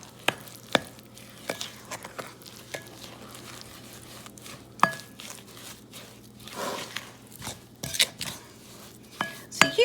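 A spoon stirs canola oil into carrot cake batter in a bowl, with scattered clinks against the side and soft wet scraping, close and fairly quiet with brief pauses.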